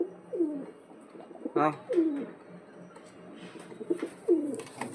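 Pigeon cooing in repeated soft, throaty phrases close by, with a few brief bursts of wing or movement noise and a short spoken word in between.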